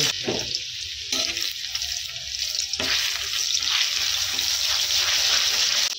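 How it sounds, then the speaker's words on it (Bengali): Chopped garlic dropped into hot oil in a wok, giving a steady close sizzle and crackle that runs the whole time, with a few stirring scrapes and no voices. "তেল গরম হয়ে গেছে, এবারে আমি কুচানো রসুনগুলো দিয়ে দিব।"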